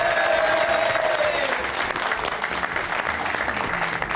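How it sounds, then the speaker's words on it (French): Studio audience applause breaks out for Kim on an Algerian television talk show, a steady and loud clapping crowd with a faint tonal whistle early on, holding throughout. "mesdames, messieurs, applaudissements pour Kim."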